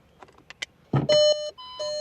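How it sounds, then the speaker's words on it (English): Reverse buzzer on a VW Scirocco sounding in sustained electronic beeps, a loud tone that holds, drops, then returns, preceded by a few faint clicks. "the annoying sound of the reverse buzzer"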